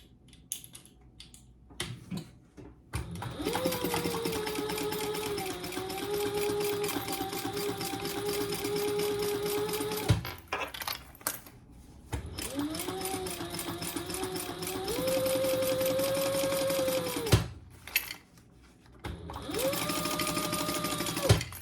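A sewing machine bastes a seam at 1/8 inch in several long runs of rapid stitching. The motor whines, brief quiet gaps separate the runs, and there is light handling noise between them.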